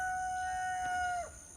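A rooster crows in one long, drawn-out call that holds steady and then falls away, loud and fairly close, with faint background hum.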